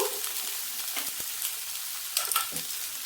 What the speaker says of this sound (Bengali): এটাকে একটু ভালো করে ভাজা ভাজা করব